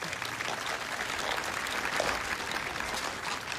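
Steady applause from an audience at a military music performance, a dense even patter of clapping hands that holds at the same level throughout with no voices over it.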